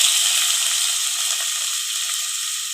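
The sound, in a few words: finely chopped onions frying in hot oil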